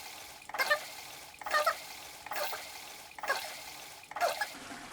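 Toilet flush in the video game Resident Evil Requiem, triggered five times in a steady rhythm, each a short rushing gurgle of water about a second long, moderately loud with no talk.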